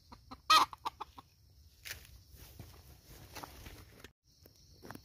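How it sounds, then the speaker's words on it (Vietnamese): A wild jungle fowl caught in a leg trap set outdoors gives a loud close squawk and then a few short clucks, followed by rustling and scuffling in the undergrowth. "Đây là chiến tường khi gà mắc bẫy"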